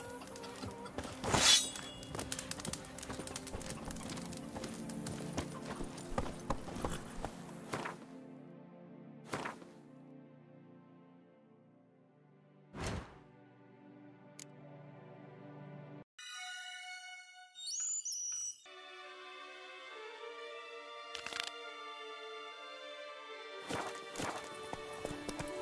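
Horse hooves clop in The Witcher 3, a run of rhythmic hoof strikes in the opening seconds, then sparse thuds among chimes and musical tones as the game's sound shifts.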